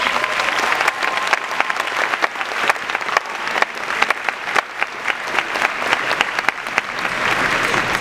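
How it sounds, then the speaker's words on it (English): Sustained applause from a large crowd at a graduation ceremony, steady and fairly loud, with dense clapping throughout. "we offer a round of applause to the administrators, teachers, staff, and parents"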